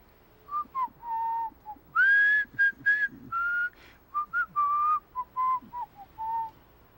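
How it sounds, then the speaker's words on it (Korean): A person whistles a short melodic tune alone, a series of clear, bright notes with brief gaps, some phrases held longer and a few quick chirps, close and moderately loud. "휘파람 불 줄 알아요?"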